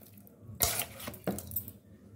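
Vegetable biryani being mixed in a pot, with two sharp scraping clatters of a spoon against metal and softer rustling of rice between them, close and alone.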